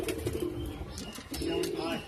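Soft pigeon cooing amid a busy, noisy pigeon sale, with a voice talking at moments.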